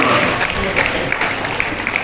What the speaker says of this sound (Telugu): చప్పట్లు గట్టిగా చప్పట్లు కొట్టాలి